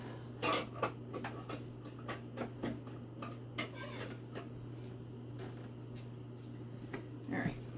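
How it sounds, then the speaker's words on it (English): Kitchen knives and utensils clink and scrape on a counter while herbs are prepared for compound butter, giving a scattered run of sharp metallic taps and rubs over a steady low hum, close and fairly quiet. "let me get a bigger knife"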